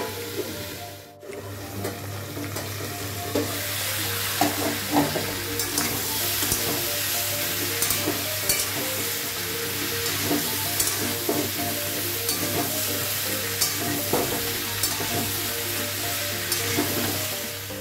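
Papaya and potato pieces frying with salt in a covered pan, a loud continuous sizzle with bubbling crackle and occasional stirring knocks, close by, no talk.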